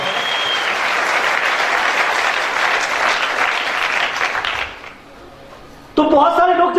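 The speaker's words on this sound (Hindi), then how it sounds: "मैं चाहूंगा एक बार जोरदार तालियां इस फैमिली के लिए" Loud applause from an audience honoring a family at a Safe Shop Secure Life event in India, dense steady clapping that fades out near the end before a voice begins speaking.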